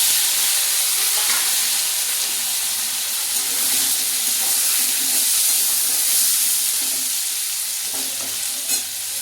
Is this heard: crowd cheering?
no